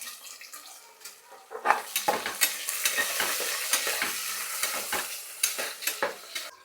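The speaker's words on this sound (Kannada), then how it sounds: "ಈರುಳ್ಳಿ ಸ್ವಲ್ಪ ಫ್ರೈ ಮಾಡೋಣ" Onions fry in a hot pan of spices for a vegetable pulao, giving a steady sizzle broken by repeated scraping stirs of a spoon against the pan, close and clear with no talking.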